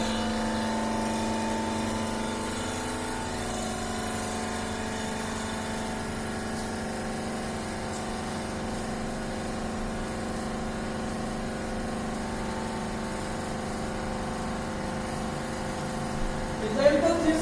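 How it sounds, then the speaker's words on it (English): Hydraulic pump of a brick compression testing machine running at a steady idle, a continuous low mechanical hum with tonal bands, ending in a brief clatter. "Close these two knobs and hydraulic pump is on."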